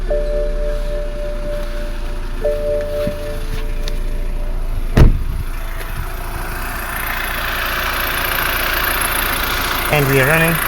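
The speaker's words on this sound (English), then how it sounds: "So let's start the car." A 2013 BMW X1 with a power steering fault, its engine cranking with a sharp start and then settling into a steady idle, while a voice talks over it.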